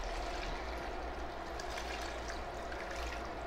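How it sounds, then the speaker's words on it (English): Water poured into a pot over peeled potatoes and onion, a continuous close splashing trickle that stays even throughout. "I'm going to cover with water"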